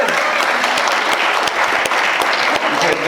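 Sustained audience applause fills a Comic Con Q&A hall, dense and steady clapping from a large crowd throughout with no break.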